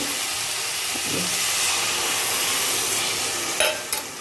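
Water hits a hot spice paste in a pan for egg malai curry, making a loud continuous sizzle and hiss, with a couple of brief clatters near the end.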